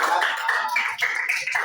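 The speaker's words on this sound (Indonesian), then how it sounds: "Tepuk tangan buat Tri." A classroom of students applauding, a quick burst of close, dense hand claps that keeps an even pace for a moment.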